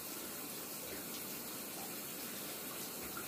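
Shower water runs steadily during hair washing, a soft, continuous hiss and splatter at low level, with no voices.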